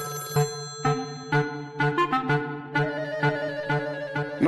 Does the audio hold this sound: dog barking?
no